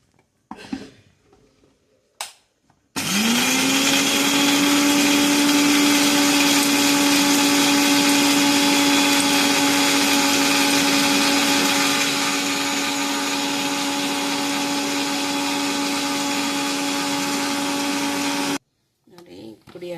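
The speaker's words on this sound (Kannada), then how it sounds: "ಫಸ್ಟು ಚಿಕ್ಕ ಮಿಕ್ಸಿಗೆ ಪುಡಿ ಮಾಡ್ಕೊತೀನಿ." A small mixer grinder runs for about fifteen seconds, turning roasted, cooled spices into fine powder for a Kashmiri paneer curry. Its loud, steady motor whine holds alone between brief moments of speech at the start and end.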